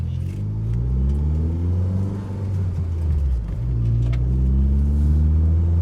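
A Toyota Corolla Altis with an overhauled 3ZZ engine revs and accelerates up close, its loud steady rumble rising and falling in pitch with gear changes throughout.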